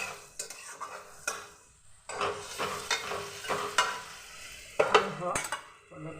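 Onions frying lightly in a pan, with a soft sizzle under frequent stirring, utensil clinks and scrapes against the metal, in quiet, uneven bursts.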